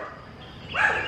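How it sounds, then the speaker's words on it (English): A dog lets out a short, sharp bark burst near the end, rising out of quiet room tone. "Oh, he's barking at the other dog."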